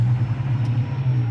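A 1996 Jaguar XJ6 with 118 miles showing idles steadily right after starting, a close, even low engine rumble running unbroken with no voices.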